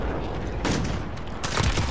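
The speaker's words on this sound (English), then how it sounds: "I'm shooting! I am pressing the trigger" Gunfire in the video game Modern Warfare, two loud bursts of shots about a second apart, close and harsh, with no speech.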